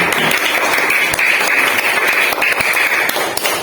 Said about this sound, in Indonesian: mari kita beri tepuk tangan untuk diri kita sendiri